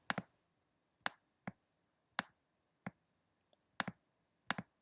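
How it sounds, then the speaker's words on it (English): Keystrokes on a computer keyboard while a headline is typed: sparse, crisp clicks come one or two at a time at an irregular, unhurried pace, close and clear against a quiet background. "Now I'm just going to type up my headline"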